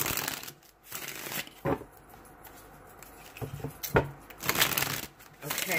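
Tarot cards are shuffled in bursts of papery riffling and soft slapping, close and fairly quiet, with pauses between rounds.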